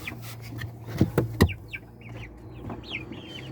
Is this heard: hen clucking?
yes